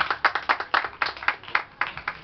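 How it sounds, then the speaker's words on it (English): An audience claps steadily at an African Unity Day event, a brisk run of crisp, moderately distant claps with no talking over it. "Shall we clap for ourselves for being an African?"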